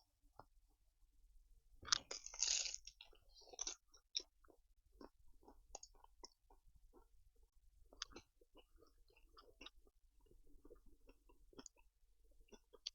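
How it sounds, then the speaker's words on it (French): Crispy, well-risen pizza crust being chewed close to the mic, with a loud crunchy bite near the start followed by soft, irregular chewing clicks and crunches. "la pâte est hyper croustillante."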